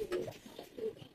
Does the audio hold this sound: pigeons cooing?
yes